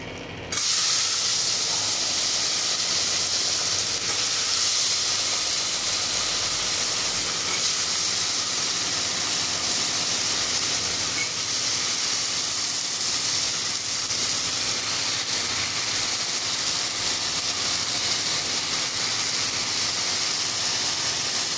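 Potatoes dropped into hot oil in a pan after salt and spices, setting off a loud, steady sizzle that starts abruptly and holds as a dense hiss throughout, close with no talk.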